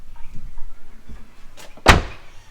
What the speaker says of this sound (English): Close the door on that.